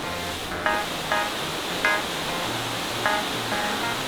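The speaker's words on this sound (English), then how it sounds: "So here we are, the first waterfall." Steady broadband rushing water fills the whole clip, loud and close, a waterfall pouring beside a hiking trail on Table Rock Mountain, South Carolina, with a few faint clicks on top.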